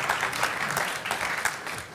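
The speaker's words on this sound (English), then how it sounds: "I would have predicted that would have got a big applause from a Swiss audience." Swiss audience breaking into applause, a steady wash of many hands clapping throughout without any voices on top.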